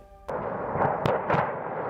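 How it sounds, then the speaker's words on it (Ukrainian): A sudden heavy boom kicks in, followed by a few more sharp cracks and blasts over a rumbling roar, like distant explosions at a Czech ammunition depot. "Це вибух на чеському арсеналі десятилітньої давності"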